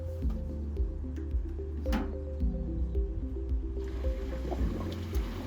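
An X-Flow chiller's water pump switching on, with a steady low mechanical hum, gurgling and sloshing as air is pushed out of the water lines, and a brief rising whoosh before the flow sound changes.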